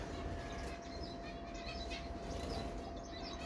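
Zebra finches in a balcony aviary setup give faint, scattered high chirps and tweets over a steady, dense background hum lasting throughout.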